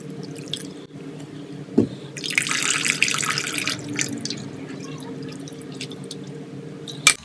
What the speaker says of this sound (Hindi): तो मैं इसमें थोड़ा सा पानी और डालूंगी ऊपर से।